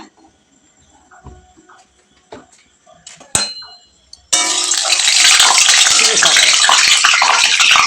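Water left on a metal spatula spits and crackles in a hot frying pan while chow mein is being cooked at home. A few faint clinks come first, then sudden loud, continuous sizzling.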